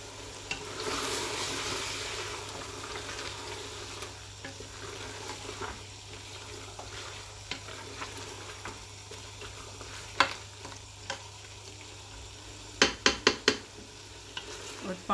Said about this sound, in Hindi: इसको घी छोड़ने तक भूनेंगे